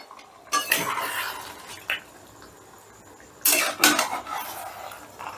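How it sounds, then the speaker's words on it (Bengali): Mutton being stirred in a pot over a raised gas flame while cooked down for a mutton curry, with bursts of sizzling and metal spoon scraping against the pan in several loud waves. "এবারে গ্যাসের আঁচটা বাড়িয়ে দিয়ে মটনটাকে বেশ ভালো করে কষে নিতে হবে।"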